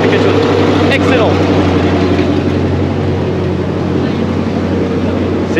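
Twin V8 engines of a 1943 tank idle together in a deep, steady low rumble with a constant throbbing hum, loud and close throughout, with a brief sharp knock near the start.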